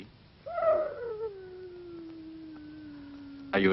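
A single drawn-out wolf howl that glides down in pitch and then holds a long, steady tone, heard alone at moderate loudness with a short burst of noise at the very end.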